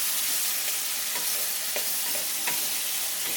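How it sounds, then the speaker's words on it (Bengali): Spice masala for Bengali chicken dopiaza sizzles steadily in a pan, a continuous hiss of frying broken by a few soft scrapes of stirring, close up with no talking. "এখন এই মশলাটাকে 2-3 মিনিট একটু কষাতে থাকবো।"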